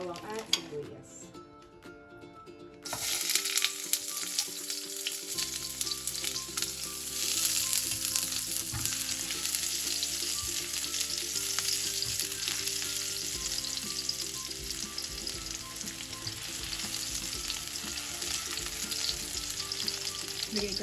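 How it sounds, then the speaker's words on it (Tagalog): Garlic and onion sautéing in a pan: after a quiet start the sizzle bursts in loudly and holds as a dense continuous hiss with occasional stirring, a voice speaking over it. "Ako po ay magigisa na ng bawang at sibuyas."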